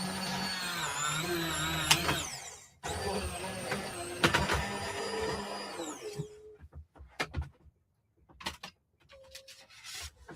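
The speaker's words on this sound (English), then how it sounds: "we're going to run this through the dye machine" A die cutting machine feeding card stock for a handmade card gives a close, steady mechanical whir and grinding hum, which then stops and gives way to scattered clicks and handling noises.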